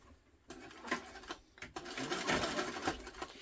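A sewing machine stitches a tote bag seam in short bursts, its close, rapid needle chatter starting, pausing briefly and resuming, with the final run longer and steadier.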